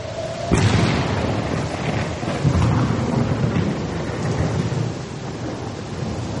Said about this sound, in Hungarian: Éjszaka iszonyatos vihar jött